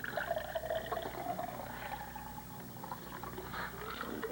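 Iced tea pours beside a swimming pool, a faint continuous liquid splashing and trickling for several seconds amid soft background noise, with no one speaking.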